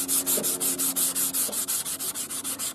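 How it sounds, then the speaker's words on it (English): An electric power sander with 320-grit paper buzzes in quick rhythmic pulses against balsa wood, steady and fairly close, with no voices. "We just sanded that up with 320 on the sander there"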